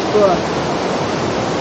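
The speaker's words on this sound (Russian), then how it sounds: "водохранилище пошел слив воды вниз на реку Каланг" Water pours from an overflowing reservoir down into the Kallang River in Singapore after heavy rain, a steady loud broadband rush like a waterfall, with a brief voice heard near the start.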